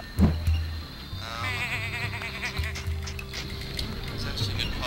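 Sheep bleat in the video game Tak and the Power of Juju: a loud bleat opens, then wavering bleats go on over game music, with someone talking over them.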